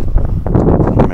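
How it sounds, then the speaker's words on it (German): Gusting wind buffets the microphone outdoors in the dark, a loud, continuous low rumble that swells and thickens toward the end, with no clear voices over it. "jetzt kommt aber Wind auf. Ich hoffe, der schlägt nicht so ins Mikro."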